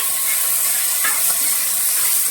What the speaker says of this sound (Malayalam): ആവശ്യത്തിന് ഉപ്പിട്ട് നമ്മളത് ഇളക്കാൻ പോവാം